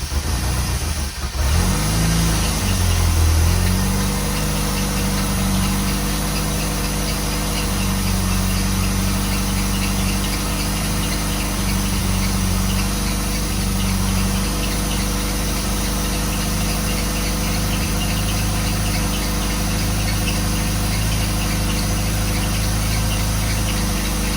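A project car's engine idles steadily while warming up for a long stretch, a close, even low rumble with a slight rev near the start.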